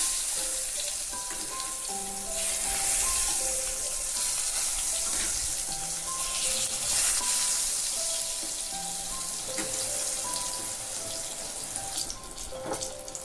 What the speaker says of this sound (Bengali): বেগুনগুলো আমার এক পাশ করে ভাজা হয়ে গেছে। আমি একটু এগুলোকে আবার উল্টে পাল্টে দেবো।